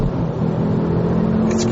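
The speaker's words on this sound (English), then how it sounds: "It's got the most glorious noise." A Ford Focus ST225 with a 2.5-litre five-cylinder turbo engine revs steadily and loudly, a strong continuous engine drone holding close and alone with a brief rising whoosh near the end.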